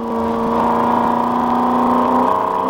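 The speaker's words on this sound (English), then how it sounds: "both these cars running the 5-litre V8, 5-speed gearbox in both the Falcon and the Commodore" Ford Falcon and Holden Commodore production race cars with 5-litre V8s and 5-speed gearboxes at Wakefield Park, a loud, steady engine drone with a sustained tonal whine throughout.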